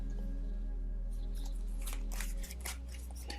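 Tarot cards are shuffled and drawn from a deck, giving soft riffling and flicking bursts that thicken toward the end over a low steady hum, close and fairly quiet.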